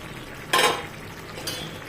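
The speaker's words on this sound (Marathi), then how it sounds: "डाळ शिजवून घेतलेली ती टाकतोय." Cooked dal is tipped into a pot of sambar: a short, wet splat up close, followed by a fainter second plop, over quiet kitchen background without speech.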